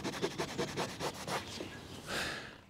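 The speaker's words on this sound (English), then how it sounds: "The sterile smelling product was sprayed directly onto each of the surfaces to be cleaned before being wiped over with a fresh microfiber towel." A fresh microfiber towel wipes the interior surfaces of a 25-year-old Figaro car in quick, faint, rhythmic rubbing strokes, ending in a longer, smoother swipe.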